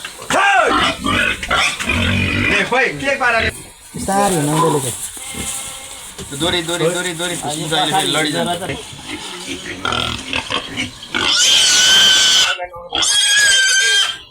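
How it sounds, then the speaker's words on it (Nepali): Pigs grunt and squeal repeatedly at close range while being loaded onto a vehicle, loud and continuous with several sharp high squeals, while people talk over them. "सुँगुर बोकेर चाहिँ गाडीमा लोड गर्न लाँदैछ भाइहरूले"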